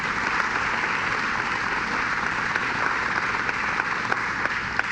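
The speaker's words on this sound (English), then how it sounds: "let's give the commissioner a round of applause" A crowd at a government announcement applauds the commissioner, steady dense clapping filling the room throughout.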